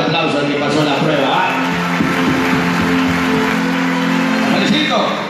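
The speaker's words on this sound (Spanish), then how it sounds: "denle un fuerte aplauso al que pasó la prueba" Audience applause at a campaign-closing rally: dense, sustained clapping from a large crowd lasting several seconds, with cheering and a voice carrying over it.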